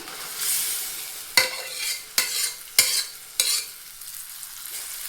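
Cooked mung beans being added to softened tomatoes and stirred in a sizzling frying pan, with steady close frying hiss broken by four sharp utensil scrapes at an even pace.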